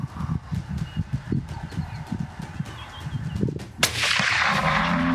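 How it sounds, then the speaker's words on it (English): A rifle shot at a Cape buffalo during a hunt in southern Africa cracks out once, sudden and loud, after a run of dull hoof-like thuds. A broad rushing echo follows. "That's a shot, good job."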